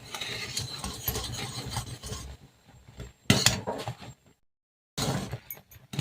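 A spoon scrapes and stirs around a pan of sugar syrup in a home kitchen, steady rasping strokes with brief pauses and a short silence.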